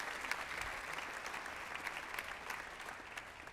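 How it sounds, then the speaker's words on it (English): An audience at a 2017 APU new student summer orientation claps in a steady, dense wash of applause that holds at an even level throughout. "Give yourselves a round of applause."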